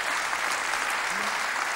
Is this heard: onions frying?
no